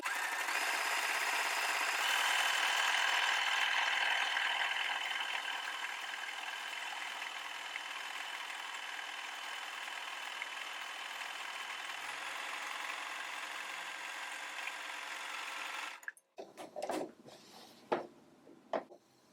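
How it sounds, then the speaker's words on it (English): A sewing machine runs a steady zigzag stitch down the edge of an 18-inch fabric strip for pleats, a continuous mechanical whir that eases slightly before stopping, followed by a few light clicks and handling sounds. "I'll simply set my fabric under the presser foot, and I have it right at the center so that the zigzag overlaps the edge of the fabric"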